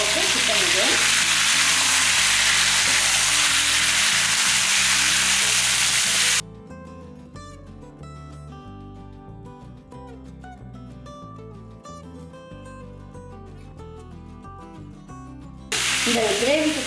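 Chopped onions and 1.25 kg of chicken sizzle and fry steadily in a pan for a chicken curry, with a loud broadband hiss that drops partway through and returns near the end, alongside stirring.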